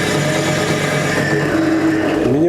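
A GTM ZJW4116 variable-speed drill press motor runs steadily with a continuous mid-pitched hum and whine, close and loud, with a rising tone near the end, and no voices.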